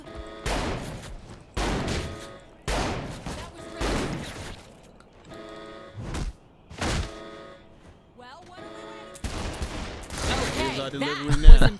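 Gunfire in the video game Saints Row The Third comes as repeated loud bursts separated by short pauses, with a brief clatter and a final heavy blast.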